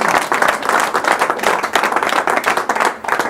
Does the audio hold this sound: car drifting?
no